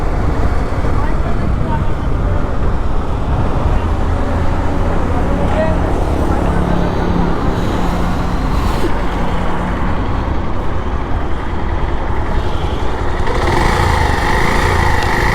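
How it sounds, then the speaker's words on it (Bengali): A motorcycle engine with a damaged piston from fake engine oil runs at idle, a loud, close, continuous mechanical drone with a rough rattling knock throughout, alone without speech. "এই ভিডিওতে আমার বাইকের সাউন্ডটা দেখেন। এখান থেকে একটা সাউন্ড আসতেছে, মনে হচ্ছে কিছু একটা ভাঙছে এইরকম লাগতেছে"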